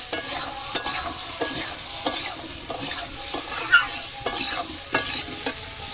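Boiled taro being stir-fried with cumin, ginger and chili paste in a pan in a village kitchen, with steady close sizzling and repeated scraping strokes of a spatula against the pan at an even rhythm.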